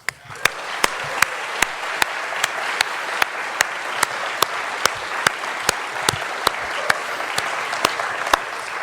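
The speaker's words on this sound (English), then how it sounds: "let's give one more round of applause to this community" A conference audience applauds steadily for nearly nine seconds, a dense wash of many hands clapping at even strength, with sharper individual claps popping out regularly throughout.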